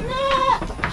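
A goat on a small farm gives a single close, loud bleat lasting about half a second, with a faint voice underneath.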